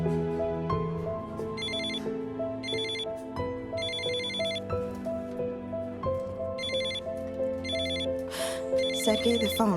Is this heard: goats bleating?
no